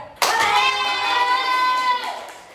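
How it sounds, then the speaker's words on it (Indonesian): Classroom children clap at once and then hold a loud, long cheer of "hore" together in unison, the voices sustained for nearly two seconds before fading. "Coba kita tepuk tangan sambil teriak hore biar lebih semangat ya"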